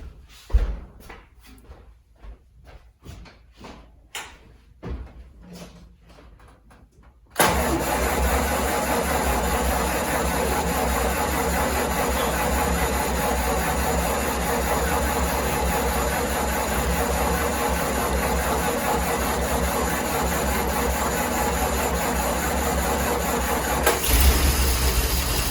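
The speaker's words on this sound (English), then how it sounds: "So let's crank over the engine and see what happens when the fuel bowl starts to fill up." A car engine, just fitted with a new cylinder head, cranks in a series of short sharp bursts, then fires and settles into a loud, steady run that continues to the end.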